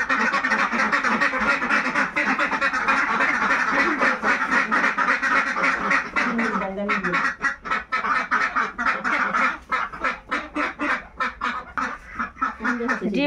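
A flock of ducks being let out on a foggy winter morning, loud overlapping quacking close by, growing into rapid, choppy bursts of calls.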